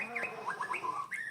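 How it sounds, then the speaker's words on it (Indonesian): Forest birds chirp and tweet in quick, clear calls close by, a short run of rising and falling whistled notes with a soft coo underneath. "Suara hutan belantara, gemercik sungai, burung berkicau, dedaunan berdesir."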